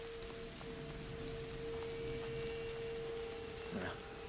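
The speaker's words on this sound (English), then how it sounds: "Oh, great, it's starting to rain." Steady soft rainfall in the video game A Plague Tale: Innocence hisses evenly throughout, with a constant tonal hum underneath and a faint clatter near the end.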